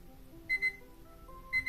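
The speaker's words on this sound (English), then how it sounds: "I'm just waiting for this alarm to end." Phone alarm going off indoors: two short bursts of repeated high electronic beeps with a quiet pause between them, near and fairly loud.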